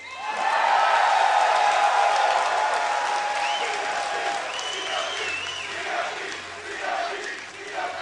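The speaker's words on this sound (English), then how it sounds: "let me hear you guys cheer for Counter Logic Gaming" An esports crowd at PAX NA Regionals cheers and claps for Counter Logic Gaming before a League match against Legion, a loud sustained roar of applause and shouting that rises quickly and slowly tapers off.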